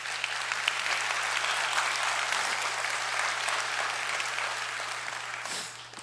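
An audience claps steadily during a TEDx talk on gun violence, a moderately loud and even wash of applause that fades out near the end, with a low electrical hum underneath.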